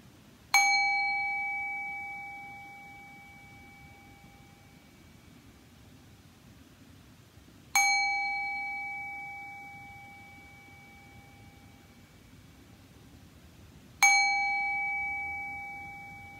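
Three clear strikes of a meditation bell ring out at long, even intervals, each a bright tone that lingers and slowly fades into near silence.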